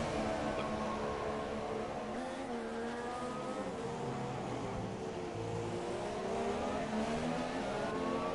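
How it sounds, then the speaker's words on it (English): Racing game engines from F1 2017, a Honda power unit against an older Ferrari unit, whine steadily with shifting pitch as cars run close together in Austria, a continuous loud drone with no talk. "The Honda engine versus old Ferrari engine."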